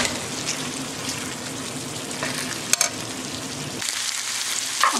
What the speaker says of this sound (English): I'm just gonna let the shreds of pork kind of fry and get crispy.